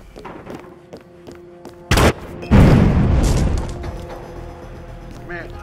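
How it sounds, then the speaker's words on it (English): An explosion detonates nearby in a shooter video game, a sharp crack followed by a heavy booming blast that rumbles and fades over several seconds amid game sounds. "Something detonated in the proximity."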